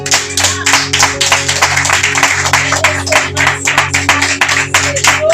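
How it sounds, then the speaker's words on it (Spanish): Loud, energetic applause from a congregation during a Spanish-language church service, with dense hand clapping continuing throughout over a steady low musical hum. "Denle un fuerte aplauso al Rey de Gloria."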